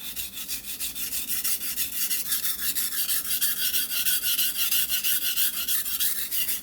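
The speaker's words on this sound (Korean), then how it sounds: "이 칼을 라인을 그리면서 칼을 갈아주셔야 돼요" Double-edged knife ground on a whetstone, a steady rhythmic rasping scrape with regular back-and-forth strokes, close and fairly loud with no voices.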